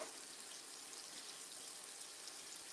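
Tap water runs steadily over hands at a kitchen sink, a faint, even hiss with no other sounds.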